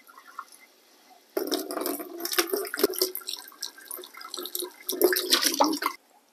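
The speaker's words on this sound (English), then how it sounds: "Just going to go ahead and flush it with warm water, lukewarm water." Lukewarm tap water runs from a faucet to rinse an Oral-B NightTime dental guard, splashing and gurgling unevenly for several seconds after a quiet start, then cutting off abruptly.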